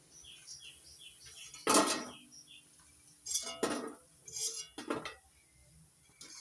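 Moong dal fritters fried until red are lifted out of a pan, giving a few separate metal clinks and scraping clatters against a quiet background, with no talk.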